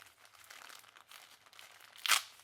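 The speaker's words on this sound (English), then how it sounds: "Gently unwrap this." DJI RS3 Mini gimbal being unwrapped from its packaging: a soft, continuous rustle of wrapping material, then a sharp, loud crinkling burst near the end, close up with no talking.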